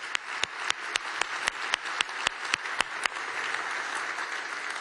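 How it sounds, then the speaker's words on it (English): Convention audience at the Innovation Convention 2011 in Brussels breaks into applause, a few sharp individual claps standing out at first before settling into a steady, dense wash of clapping that continues to the end. "please give a warm round of applause to them"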